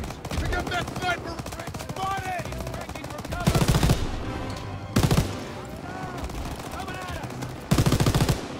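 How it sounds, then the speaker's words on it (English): Rapid automatic gunfire from a Call of Duty WW2 battle comes in repeated loud bursts, with sharp shots layered over busy combat noise. "Everyone open fire"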